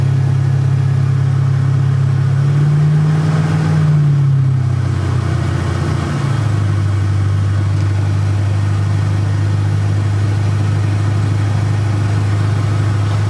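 Ford LTD Crown Victoria with a swapped-in manual transmission, its engine running steadily at a raised speed. A loud, constant low drone is heard throughout, with a brief rise and fall in pitch near the start, then a level hold.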